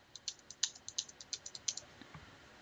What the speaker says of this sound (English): you just start typing in the numbers and pressing enter after each one